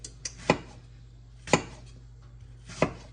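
A knife thinly slicing apple quarters for apple pie on a cutting board: three distinct sharp chops spaced about a second apart, close and clear over a faint steady hum, with no talking.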